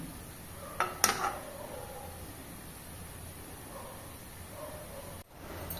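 A metal stand clinks into a kadai of heating water, giving a couple of sharp metallic knocks early on, followed by a quiet low hiss of the heating pot and a faint bump near the end.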